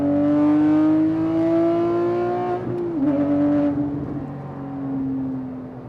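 A Porsche 997.2 GT3 RS accelerates hard, its engine note climbing steadily in pitch, easing briefly at a gear change, then pulling again loud and close without talk.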